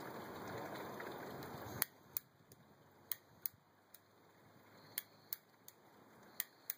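Repeated sharp clicks from a handheld lighter that keeps failing to light, a few spaced strikes in a row, close and fairly loud against a quiet background after a brief burst of broadband noise.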